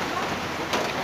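Steady rain falls on a surface, a dense, even hiss of drops that fills the whole stretch with no talking.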